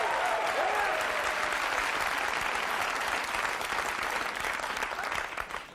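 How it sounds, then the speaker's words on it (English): A studio audience at a comedy sketch show cheers and claps continuously, a loud, even roar of applause lasting throughout with no pause. "Not sure what they're cheering for there"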